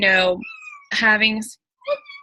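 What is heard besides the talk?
cat meowing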